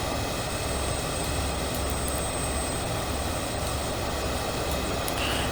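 Steady, loud jet engine roar of a BAE 146-300 airliner taxiing in Microsoft Flight Simulator, a constant broadband rumble with no break.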